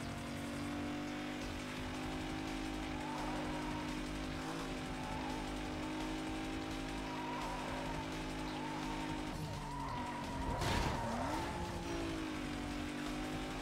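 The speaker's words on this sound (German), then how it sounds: "So legt man sich in die Kurve rein. So kann man driften" A car drifting through a curve in the video game Need for Speed Most Wanted, with a steady engine drone, tires skidding and squealing, and a louder screech and slide near the end.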